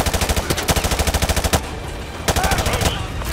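Loud automatic gunfire in Call of Duty Modern Warfare 2 Remastered, two fast bursts of rapid shots split by a short gap, with heavier single reports punctuating the rattle and faint battle noise behind.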